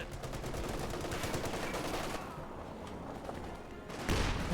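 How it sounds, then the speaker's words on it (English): Bursts of MG34 and .50 cal machine gun fire from Company of Heroes 2 rattle continuously and loudly, overlapping with dense battlefield noise and a brief lull before another heavy burst. "50 cal does suppress the MG34, but the MG34 does suppress the 50 cal"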